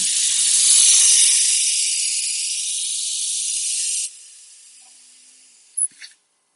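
Compressed air hisses loudly and steadily out of in-ground irrigation sprinkler heads during winterizing, then drops to a fainter hiss before cutting off with a couple of brief sputtering bursts.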